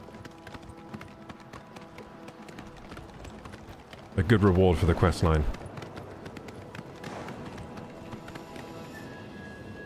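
Shadowmere, the ghostly black horse in Oblivion Remastered, gallops in a short loud burst of rapid hoofbeats lasting about a second, with someone talking before and over the game sounds.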